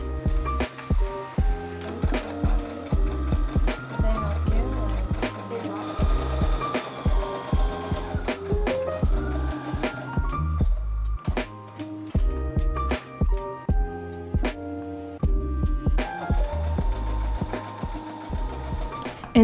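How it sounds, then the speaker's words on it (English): A sewing machine stitches the side seams of a linen dress in close, loud bursts of rapid mechanical chatter with short pauses between runs. "In these clips, I'm sewing the sides together and then I'm serging the edges to finish it off."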